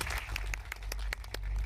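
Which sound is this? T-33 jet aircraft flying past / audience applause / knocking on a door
audience applause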